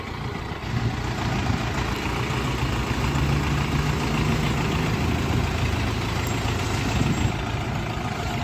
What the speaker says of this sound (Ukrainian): Тракторець їде